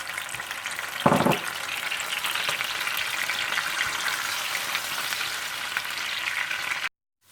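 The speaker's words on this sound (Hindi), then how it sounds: "और फिर इसी तेल और मक्खन में आप ऑनियन पेस्ट डालकर अच्छी तरह से भून लें।" Onion paste frying in a mix of oil and butter makes a loud, continuous sizzle. A brief burst of stirring comes near the start, and the sound cuts off abruptly at the end.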